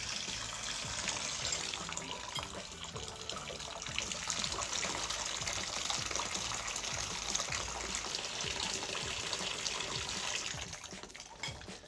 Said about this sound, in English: I'm going to let this water run over the thermometer